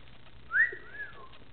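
A cockatiel's single bright whistled note rising then sliding, with a fainter short whistle after, heard alone against quiet room hiss.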